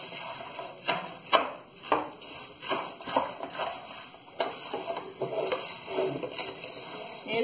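Rice and angel hair pasta fry in a pan, giving a steady close sizzle broken by repeated scraping stir strokes and light clatter against the pan, with no talking.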